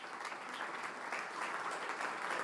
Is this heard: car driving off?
no